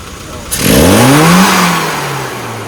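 A car engine revs during carburettor tuning, jumping from idle into a loud rising roar, then easing back down toward idle, close up with no one talking.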